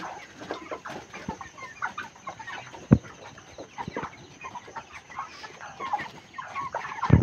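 Broiler chickens on a poultry farm clucking and murmuring in a busy flock, with scattered louder squawks over a constant low chatter.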